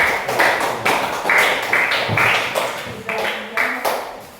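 A burst of applause from a group, steady clapping filling the room for a few seconds with a little background chatter.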